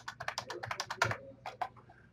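Quick bursts of keystrokes on a computer keyboard while a password goes in, a rapid run of close, crisp clicks followed by a few slower taps alone in a quiet room.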